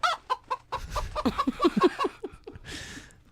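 Chickens cluck in a quick series of short, choppy calls, close and fairly loud, with a brief hiss of noise near the end.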